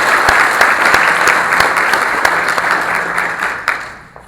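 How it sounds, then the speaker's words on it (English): A workplace awards audience applauds certificate recipients, loud dense clapping with a few sharp individual claps standing out, tapering off toward the end. "So how about another round of applause for all our certificates of commitment?"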